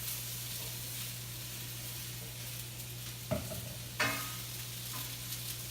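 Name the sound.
fresh cut vegetables searing and stirred in preheated pan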